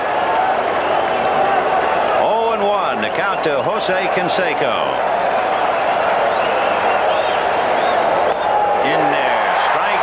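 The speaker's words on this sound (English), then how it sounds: "This crowd seemed to think if we make some noise, maybe we can perk him up and get behind him." A crowd at Game 2 of the 1988 World Series between the A's and the Dodgers keeps up a steady, dense roar of cheering and noise, while a commentator talks over it.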